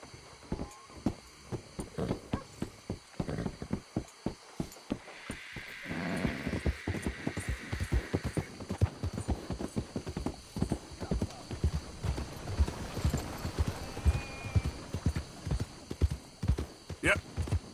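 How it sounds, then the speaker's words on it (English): Horse hooves clip-clop in Red Dead Redemption 2, a steady rhythmic trot of close, distinct hoofbeats. A brief whinny rises partway through, and a voice speaks over the hoofbeats. "Hope I never have to be on that horse again, dang animals."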